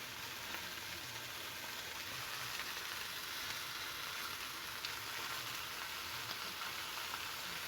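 Meat juices from an Easter roast sizzle steadily in a hot pan, making a continuous, even hiss of frying that carries on without pause and without any voices.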